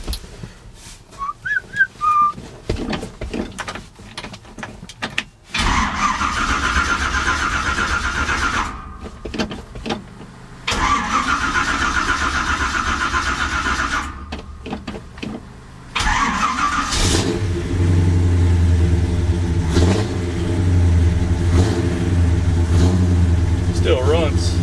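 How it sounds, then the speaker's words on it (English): An old truck engine cranks, catches and starts, then revs and idles roughly with rising and falling throttle, loud and close, after a stretch of talking and a brief whistle at the start. "I'm going to start this old truck here."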